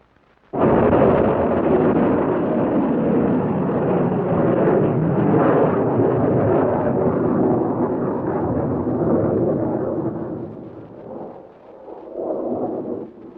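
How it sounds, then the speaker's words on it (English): An Army Nike Zeus anti-missile missile test firing at White Sands erupts in a sudden heavy roar that holds as a sustained rumbling blast for about ten seconds, then fades and swells briefly. "Last to be demonstrated was the Army's Nike Zeus, the nation's only anti-missile missile under advanced development."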